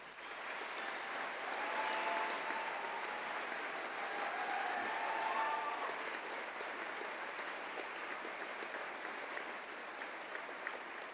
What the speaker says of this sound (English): join me in thanking them with a huge round of applause